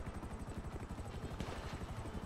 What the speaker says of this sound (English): my chopper gonna go away right at the start of the round